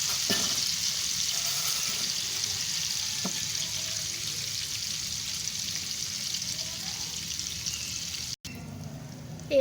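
Battered fritters frying in medium-hot oil, a steady close bubbling sizzle that runs unbroken for several seconds, with a brief clatter near the end.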